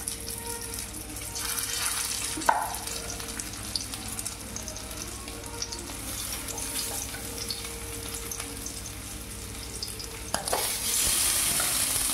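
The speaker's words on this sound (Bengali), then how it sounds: "তেল কিন্তু আমার হয়ে গেছে। এরপর আমি আলুগুলো এক একে দেবো।" Potatoes dropped into hot oil for chicken biryani fry with a steady close sizzle, broken by a couple of sharp clatters of pieces or utensil hitting the pan.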